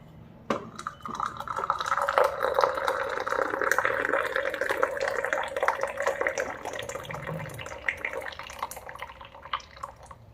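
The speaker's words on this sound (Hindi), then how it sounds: "और इसमें गरम गरम पानी डाल दूंगी, रेडी हो जाएगी हमारी कॉफ़ी" Hot water pours steadily into a cup of coffee, a continuous bubbling, gurgling stream with faint drips and clinks as it fills, close and moderately loud.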